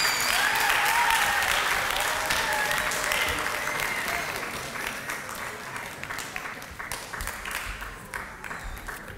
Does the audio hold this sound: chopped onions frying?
no